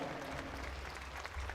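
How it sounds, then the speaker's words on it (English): A crowd applauds at a varsity football senior night against the Blue Ridge Yellowjackets, a dense, steady patter of many hands clapping, fairly faint and distant throughout. "one more round of applause for those that have been recognized this week"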